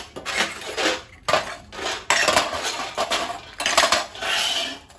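Scrubbed copper and brass pots and utensils being rinsed and handled, with bursts of metallic clattering and clinking as the vessels knock together, broken by short pauses.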